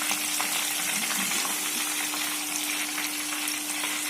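Crushed potatoes fry in hot oil for a protein nimko snack, giving a continuous loud sizzle with crackling bubbles and a steady hum running underneath, no voices present.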